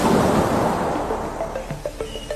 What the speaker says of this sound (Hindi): समुद्री लहरें अजीब सा बर्ताव कर रही है